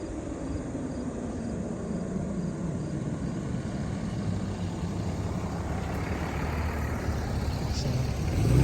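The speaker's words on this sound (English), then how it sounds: "Here comes a vehicle." Vehicle approaches on a rural Ohio road, a broad engine and tire rumble growing steadily louder toward the end, heard over constant road noise.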